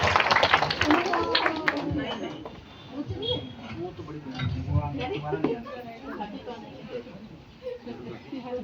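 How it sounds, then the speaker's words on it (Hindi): At a children's drama function at ISKCON Shimla, an audience claps to welcome young performers: a busy burst of hand claps at the start that thins out and sinks under ongoing talk. "आइए हम सब जोरदार तालियां बजाकर इन नन्हे कलाकारों का स्वागत करते"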